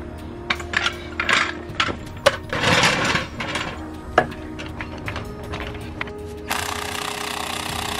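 Metal clanks, rattles and scrapes of tools working loose a wheel on a Ford Bronco with a fire-damaged brake, close and irregular, with a steady hiss or whir taking over near the end.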